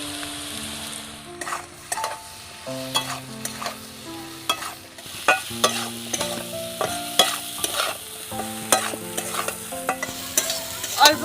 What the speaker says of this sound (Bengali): অল্প করে একটু সব মশলাগুলোকে নেড়ে নিয়েছি